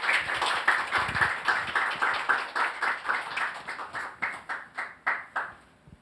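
A church congregation claps at a Sunday service, starting as scattered quick clapping and settling into a slower rhythmic beat that fades away, fairly close and moderately loud.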